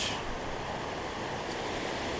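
Water flows steadily outdoors on a winter day, making a continuous, even rushing hiss with no breaks or voices.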